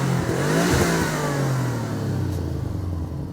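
A German car's engine revs hard toward redline at a cars and coffee meet, a loud, sustained roar that rises and then slowly sags, close by with no talking.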